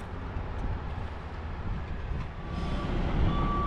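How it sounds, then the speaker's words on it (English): A double roll-off truck pulls in with its reversing beeps sounding over a steady, rumbling diesel engine that grows louder toward the end, heard outdoors at close range. "And we got a double roll-off coming in right now"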